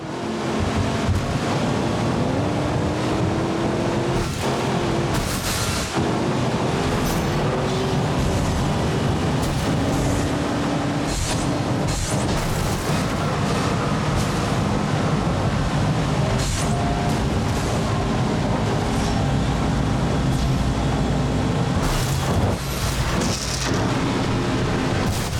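Racing cars in the video game Blur, played at full HD on an Acer Aspire Lite laptop: a steady, loud engine roar and whooshing road noise runs throughout, with occasional sharper bursts and swells.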